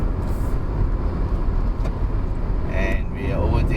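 A new Proton Saga with a 1.3-litre engine overtakes an old Saga while climbing Genting Hill: steady road and engine rumble with tyre noise. Talk runs over it throughout.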